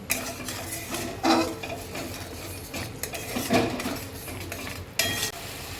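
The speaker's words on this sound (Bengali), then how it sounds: "এবার একটু ভালো করে কষিয়ে নেব" Spice paste being sautéed for a paneer curry, with a spoon scraping and clinking against the pan in several distinct bursts over a steady low sizzle, close and moderately loud.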